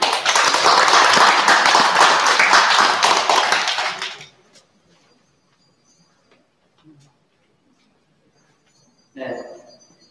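Audience at a Buddhist dharma gathering applauds two newlywed couples with a dense burst of clapping for about four seconds, which then cuts off into near silence before a brief sound near the end.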